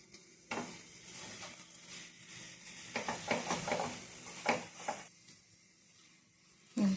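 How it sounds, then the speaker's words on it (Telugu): Rusk halwa being stirred in a pan with a little ghee added: a steady soft sizzle with scraping stir strokes that cluster in the middle, close up and with no talking. "నేను ఇప్పుడు కొద్దిగా నెయ్యి వేస్తున్నాను."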